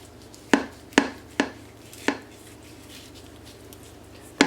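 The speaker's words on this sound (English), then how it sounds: "So we'll cut a piece." A knife cutting through a taco bake in a springform pan, five distinct crisp chopping taps at uneven intervals, close and fairly quiet.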